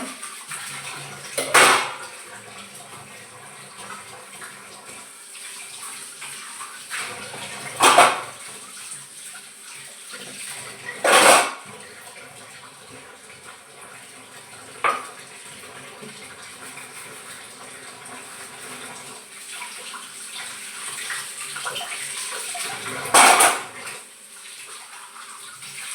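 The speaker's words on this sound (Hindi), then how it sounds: "मैं जितने भी मेरे छोटे होते रहते हैं उतने बर्तन मैं हल्के हाल मांजती जाती हूँ" Dishes and utensils clatter in a home kitchen sink as they are scrubbed, with a steady wash of running tap water underneath and several sharp, louder clanks spaced a few seconds apart.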